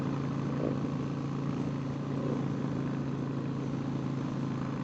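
Many motorcycles at the 2022 Four Corners Motorcycle Rally in Durango, a steady dense rumble of engines idling and running nearby, continuous and fairly loud with no talk.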